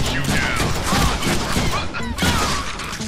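Rapid gunfire bursts crackle in a Deadpool video game, dense volleys with a brief lull before another burst, loud and close.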